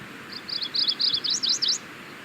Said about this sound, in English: So that was the sound of the McGillivray's warbler.